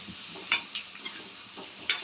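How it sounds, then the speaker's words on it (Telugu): Eggs frying with turmeric and salt in a pan for egg biryani, a soft steady sizzle broken by a few sharp scraping or tapping strokes, close and quiet with no talk. "చూడండి, ఇట్లా ఫ్రై అవుతుంది."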